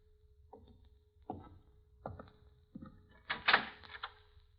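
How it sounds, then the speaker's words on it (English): A door in an old-time horror mystery radio drama opens in a series of creaks and knocks, four or five short bursts building to a louder, brighter scrape near the end, with a steady faint hum underneath. "Open the door, Vince."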